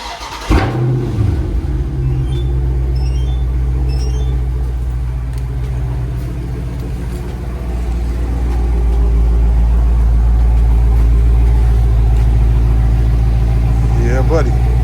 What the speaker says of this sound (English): I'll give y'all a cold start.